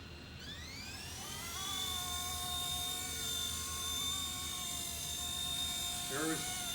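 Remote-controlled MD500 model helicopter on its first flight with a TX16S transmitter, a steady high whine rising as the rotor spins up and holding level, close by, with a brief rattle near the end.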